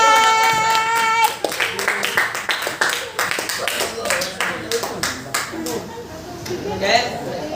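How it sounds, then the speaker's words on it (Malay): A classroom group claps in a quick, uneven burst of sharp hand claps that carries on for several seconds, with voices talking over it. "Berikan tepukan."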